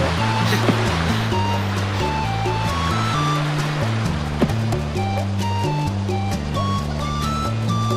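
A steady rushing waterfall in the Croc 2 video game, a constant watery hiss held under looping, bouncy game music with bright chiming notes throughout.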